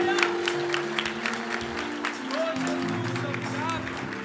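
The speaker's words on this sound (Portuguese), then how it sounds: "Será que você pode celebrar aplaudindo ao Senhor?" A church congregation claps during an evening service, with rapid scattered hand claps over a sustained organ or keyboard chord and voices murmuring underneath.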